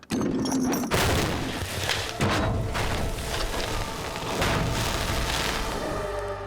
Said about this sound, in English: Now we're going for a big boom.